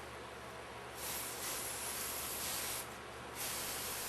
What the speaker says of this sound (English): I'll clean that off with a little bit of solvent.